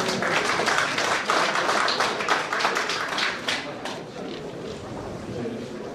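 An assembly at a Korean church council general meeting applauding, a crowd's thick clapping that starts strong and gradually thins and fades, with some voices mixed in beneath.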